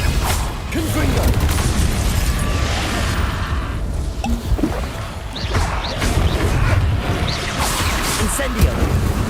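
Confringo blasting curse in Hogwarts Legacy, a rumbling fiery burst amid dense game combat noise, with layered booms and whooshing spell effects sustained throughout, while a voice is heard calling out.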